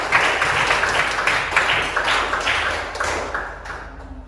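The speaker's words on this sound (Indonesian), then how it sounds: "tepuk tangan untuk kelompok 2." A classroom applauds a student group after their presentation, with dense, fairly close clapping that stays steady and then tapers off toward the end.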